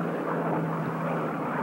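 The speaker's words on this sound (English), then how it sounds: "Plane passing overhead." A propeller airplane drones steadily overhead across a 1960s golf course at the Country Club de Bogota, a continuous moderately loud hum with no voices.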